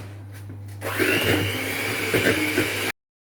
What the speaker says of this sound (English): I've whisked the butter and the sugar until it's nice and creamy and softened.